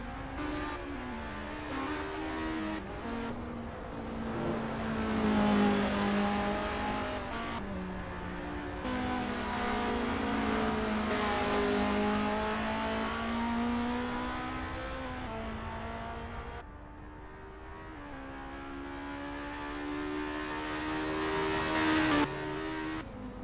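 Race cars in a racing video game warm up on the Zandvoort circuit, engines revving and shifting through gears in a steady, continuous drone with rising and falling pitch, no voices.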